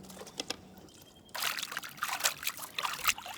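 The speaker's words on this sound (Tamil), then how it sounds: "கறியை நல்லா சுத்தமாக கழுவி எடுத்துக்கணுமுக்கா." Buffalo tongue meat being washed in water for a village-style pepper fry: soft trickles and drips at first, then busier sloshing and splashing with irregular splashy peaks, close and fairly quiet.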